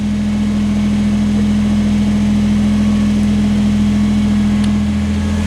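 A compact Kubota BX23S tractor engine idles steadily with its backhoe lowered into the ground, a loud, even mechanical hum holding throughout with no talk.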